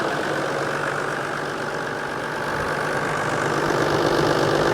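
A big Toyota diesel engine idles steadily at close range, a continuous even rumble with a faint knocking texture running through the whole stretch and no voices.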